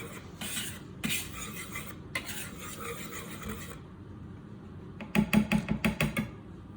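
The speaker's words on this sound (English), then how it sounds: "I'm just going to take a whisk and quickly stir that just for a second" A whisk scrapes and rasps through sifted dry cookie ingredients in a bowl, steady stirring for a few seconds, then a burst of sharper rhythmic clinks against the bowl near the end, close and fairly quiet.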